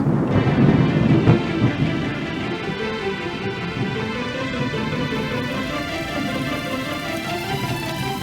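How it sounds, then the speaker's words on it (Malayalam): Steady heavy rain pours down with a broad hiss, opening with a low rumble of thunder, continuous and enveloping with no voices. "അയ്യോ, മഴ വരുന്നു."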